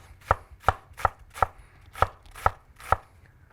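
A knife chops an onion on a board for classic potato salad, with seven crisp, evenly spaced chops heard up close and alone.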